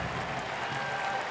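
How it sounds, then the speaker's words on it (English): A stadium crowd at a USL soccer match between FC Cincinnati and Tampa Bay Rowdies applauds a player being substituted off, producing a dense, even roar of distant clapping that holds steady for the whole moment. "a round of applause for the Bailey as he heads out"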